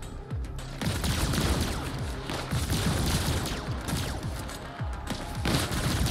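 Heavy gunfire in the sci-fi shooter video game The Ascent, dense rapid bursts and booming impacts continuing loudly without a break.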